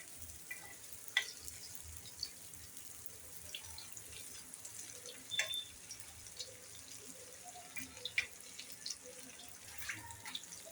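Vadi fry in hot oil in a pan, giving a steady, soft sizzling crackle. Occasional small pops and clinks come through in a quiet home kitchen.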